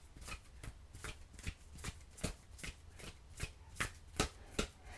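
Oracle cards being shuffled in steady repeated riffles, about a dozen crisp bursts over five seconds, close and fairly quiet with no talking.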